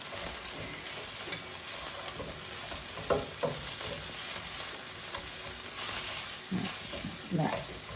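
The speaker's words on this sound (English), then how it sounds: "Mash this up nice" Ground turkey sizzles steadily in a hot pan while a metal masher breaks it up, with scattered scraping thuds throughout and a few louder knocks near the end; no talking.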